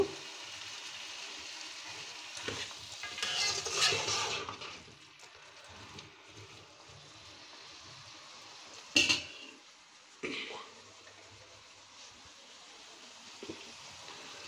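Potatoes and tomatoes tip into a hot pan and cook, giving a steady soft sizzle with a few clattering knocks of utensils against the pan and lid.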